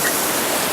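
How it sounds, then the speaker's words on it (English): Raging waterfall and powerful rapids at Kitchen Creek Falls roar as a dense, continuous broadband rush, loud and close with no pauses or voices. "Our camera can't even handle this raging waterfall and the power of the rapids"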